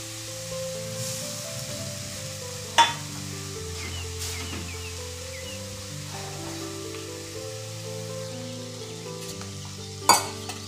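Ground masala frying and being stirred in a pan for masala brinjal gravy: a steady close sizzle with scraping stirs and two sharp clinks against the pan, with soft music playing underneath.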